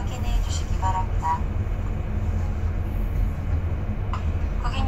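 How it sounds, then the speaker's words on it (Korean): A KTX high-speed train bound from Seoul to Busan, heard as a steady low rumble of the carriage, with a station announcement playing over it. "열차가 곧 출발합니다."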